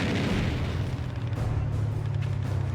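Artillery bombarding Japanese fortifications in World War II, a dense continuous rumble of heavy booms blending into a loud low roar throughout, with no talk.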